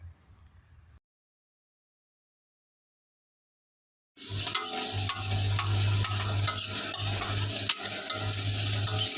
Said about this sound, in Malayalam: ഇനി ഇതെല്ലാം കൂടി നന്നായിട്ടൊന്ന് വഴറ്റിയെടുക്കണം